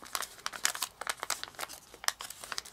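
Origami paper crinkles and rustles in a quick series of close, crisp bursts as it is unfolded and squash-folded into a jumping jack-o-lantern, with no voices.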